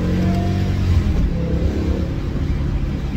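A V10 car engine rolls through a village at about 20 miles an hour, giving a steady, dense low rumble with slight swells of revving throughout and no talking.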